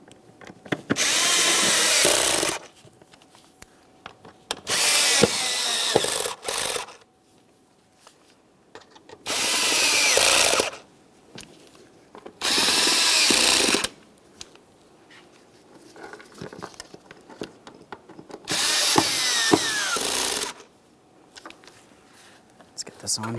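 A power tool snugs alternator bolts on a 2013-2015 Chevrolet Malibu 2.5L L4 in loud, close bursts of a few seconds each, separated by pauses filled with shuffling and brief talking.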